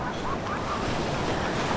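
Strong ocean waves break on the shore at Gangneung, a loud, steady wash of surf mixed with gusty wind rumble on the microphone.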